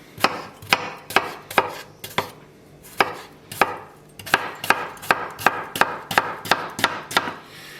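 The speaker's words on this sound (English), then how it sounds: "I take a bunch of cucumber, and I'm going to cut these into half rounds" Knife slicing cucumber into half rounds on a board, sharp regular chopping taps close up, starting spaced and then quickening into a fast, even rhythm of about a dozen cuts.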